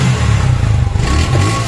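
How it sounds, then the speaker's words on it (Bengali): A 2022 Suzuki Gixxer 155 motorcycle engine revs under the throttle, a close, steady mid-pitched exhaust drone that dips briefly and then rises again. "এবার আমরা অ্যাক্সেলেটরের সাউন্ড শুনি"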